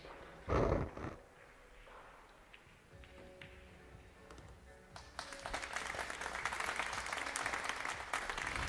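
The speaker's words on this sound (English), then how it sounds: "The fans cheering her on, trying to get her to pick up 2 more games" Fans applaud at a women's 10-ball pool championship match, first a short burst of clapping, then a quieter stretch, then a broader, sustained round of applause from the crowd.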